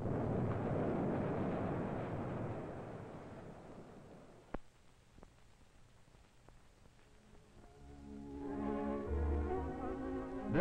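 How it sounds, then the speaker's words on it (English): A heavy rock blast in an open-pit copper mine, seen from the pit floor, breaking loose ore: a long, loud broadband roar slowly decays, followed by a few sharp cracks and later a rising rumble of falling material. "Now let's look at another heavy blast viewed from the bottom of the pit."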